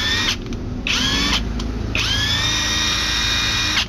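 A Hikoki impact wrench runs in forward with no load, giving loud, close high-pitched whining bursts: a short one, then a second one lasting about a second and a half, with motor hum between them.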